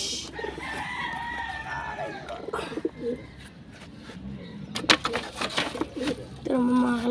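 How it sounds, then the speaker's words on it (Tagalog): Pigeons kept by a Filipino handler coo and call in a close, busy bird chorus, with crowing-like notes and brief vocal bursts rising over steady background noise. "Ito naman mga kalapatids."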